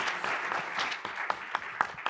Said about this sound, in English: They deserve that hand of applause.